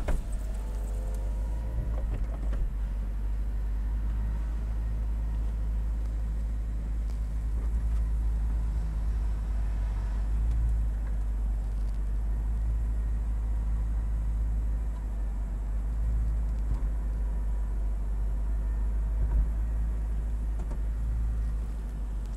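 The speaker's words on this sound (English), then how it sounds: "I'll activate it now to demonstrate how the top comes down." The retractable hardtop of a 2011 BMW M3 Convertible folding down, a quiet, steady electric motor hum with faint mechanical clicks and whirring that runs for about twenty seconds with no talking.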